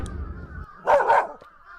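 Dog in the video game Urayama barking twice in quick succession, fairly loud and close, over a low background hum that drops away just before the barks.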